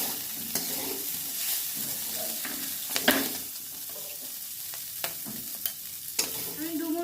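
Steady oily sizzle from a wok with scattered sharp pops and clinks of a utensil stirring, fairly close and continuous throughout.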